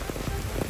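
Rain falls steadily, a dense hiss of drops spattering on surfaces, loud and close through a short burst with no other sounds.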